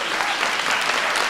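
Brief, dense applause from an audience at the White House Science Fair, many hands clapping evenly at moderate loudness without pause.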